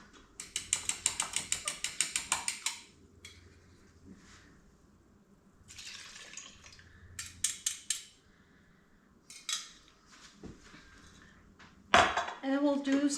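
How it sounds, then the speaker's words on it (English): Metal spoon scraping and clinking around a pot while ginger mead is stirred after yeast is pitched, in repeated rhythmic bursts of clatter with pauses between, close and moderately loud. "And we'll do some more stirring."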